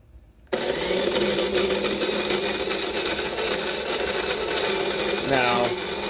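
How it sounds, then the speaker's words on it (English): A KRUPS Precision flat burr coffee grinder set two clicks beyond fine grinds coffee beans, starting abruptly after a short quiet moment and then running as a steady, loud whirring buzz close by, with no talk over it. "I have heard some complaints about grinders being noisy."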